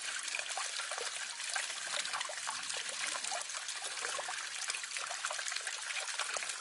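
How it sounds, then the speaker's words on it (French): A small fountain at a water retention basin trickles steadily outdoors, a continuous close splashing and dribbling of water with no pauses and no voices. "Une petite fontaine, une retenue d'eau, on va dire, qui est là."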